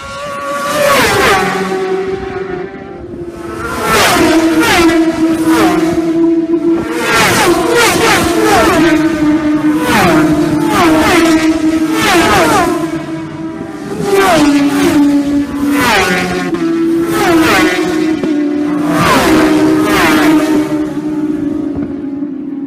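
Racing motorcycles in the 2017 Southern 100 Senior race on the Isle of Man, loud engines screaming past close by in repeated surges with gear changes and swelling pitch, a brief lull between waves, no talk.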